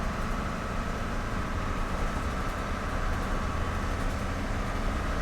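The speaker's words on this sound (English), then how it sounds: "as we start to pick up speed, it really is noisy. I mean, I'm having to raise my voice to talk over the engine." A Dennis Eagle truck's engine roars loudly and continuously as it picks up speed, a dense, steady rumble and drone heard from inside the cab with no talk.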